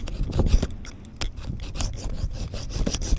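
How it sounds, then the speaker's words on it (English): A blade is rubbed across a handheld field sharpener outdoors, giving close, uneven rasping scrapes in quick irregular strokes, with no talking. "all you have to do is rub it across the blade"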